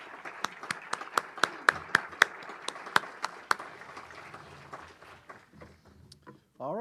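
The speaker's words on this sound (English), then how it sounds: "Let's give them a round of applause for their dedicated service and helping us out" A small audience at a Rotary Club meeting claps in a quick, regular patter of distinct claps that peaks early and then thins out and fades over several seconds.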